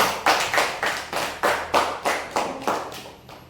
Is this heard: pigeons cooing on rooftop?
no